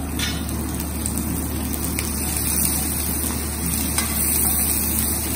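Chopped chilies with ginger stirred in a hot frying pan for an Indian baigan bharta: steady close sizzling with scraping stirs, loud and continuous, no voice over it.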